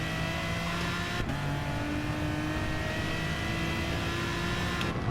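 Aston Martin DBR9 race car engine in Gran Turismo Sport, held high and tightly wound with a steady revving drone, one short lift near the start and another near the end, loud and close with no voices.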